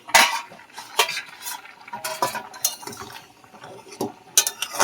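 A metal cooking pot holding boiled eggs and potatoes is opened, giving sharp metallic clinks and lid clatters scattered across a few seconds, close and distinct with no talking.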